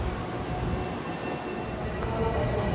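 A Long Island Rail Road train rumbles through Jamaica station during the evening rush, a steady, loud mechanical roar with faint squealing tones and muffled voices underneath.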